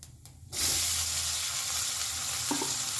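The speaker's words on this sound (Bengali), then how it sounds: "পেঁয়াজটা কিন্তু সুন্দর করে ভাজতে হবে" After a brief quiet moment, chopped onion drops into hot oil with a cumin and asafoetida tempering for a duck egg dish, and a loud, steady sizzle rushes up and holds close and constant.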